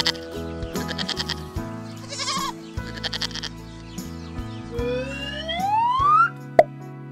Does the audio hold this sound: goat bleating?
yes